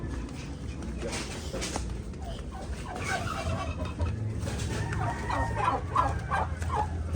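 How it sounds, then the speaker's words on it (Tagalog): A turkey gobbling in a village yard among other fowl, with rattling calls rising over outdoor background noise and faint voices nearby. "Pabo."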